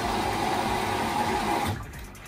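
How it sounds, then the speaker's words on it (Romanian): Washing machine taking in water during a cleaning cycle, a steady rushing, humming fill that runs loud and even, then cuts off abruptly near the end, leaving quieter background. "a început să bage apă"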